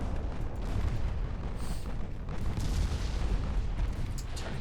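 Naval shells striking a Dutch battleship and setting off an ammunition detonation in Ultimate Admiral Dreadnoughts, heard as a continuous dense roar of rumbling blasts and bursts with no talking.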